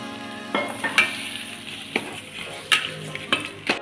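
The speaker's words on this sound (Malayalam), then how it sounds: "അടുത്തതായി ചിക്കൻ പീസസ് ഇട്ട് കൊടുക്കുന്നു." Chicken pieces frying in oil in a pan, a steady close sizzle broken by sharp spatters and the clinks and scrapes of stirring, with no talking.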